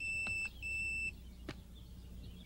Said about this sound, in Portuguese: Droga, é o meu bip.